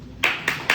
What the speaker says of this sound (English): In your round of applause, DTM Ali Abdullah.